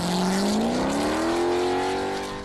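A custom wedge-shaped car roughly based on a Formula One chassis, with huge tires and eight exhausts, roars close by, its engine pitch climbing in one smooth sustained rev before easing slightly at the end.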